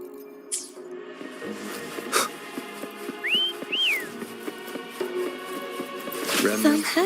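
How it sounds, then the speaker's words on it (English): In the Wuthering Waves video game, a whistle calls Foam over: two short, rising tonal whistle chirps in quick succession over steady game music and ambience, fairly clear and mid-loud. "Try whistling."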